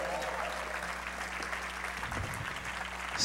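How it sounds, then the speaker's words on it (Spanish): A church congregation gives a strong round of applause at the end of a prayer, a dense, even clapping held steadily over a low background hum. "Dale un fuerte aplauso al Señor."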